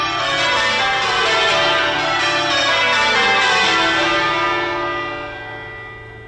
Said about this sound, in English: We've got an amazing service, bells are ringing, joyful atmosphere.